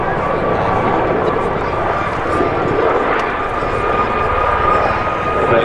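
Gazelle helicopters fly at the Midlands Air Festival 2023, giving a loud, steady rotor and engine drone that holds evenly throughout, with voices faintly present underneath.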